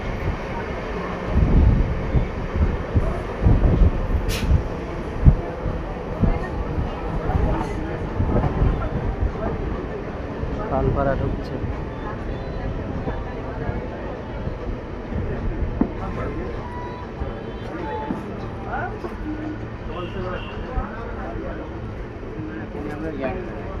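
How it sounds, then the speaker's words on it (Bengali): A train rumbles and clatters steadily as it pulls into Palpara station on the Shantipur–Simurali line, with occasional louder knocks from the carriages and a voice talking over the noise. "আমাদের ট্রেন এখন ঢুকছে পালপাড়া"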